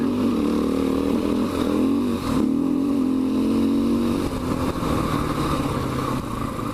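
A KTM 500 motorcycle engine runs steadily on a mountain trail in Wyoming County, southern West Virginia, its loud, continuous drone shifting pitch a few times as the revs rise and fall, heard close and alone.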